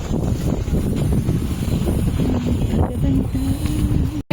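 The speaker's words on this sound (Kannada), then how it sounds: "ತಣ್ಣಗೆ ಬೀಸ್ತಾ ಇದೆ ಗಾಳಿ" Cool wind blows across an outdoor spot under dark clouds, a steady rushing roar buffeting the microphone up close, with faint background murmurs and a soft tonal hum.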